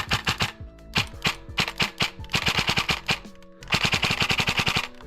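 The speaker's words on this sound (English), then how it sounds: "This gun sounds almost like an HPA gun" A VFC Avalon airsoft M4 with a 13:1 SSG build fires full-auto, with several rapid bursts of sharp, mechanical clacking shots separated by short gaps, close and crisp with no talking.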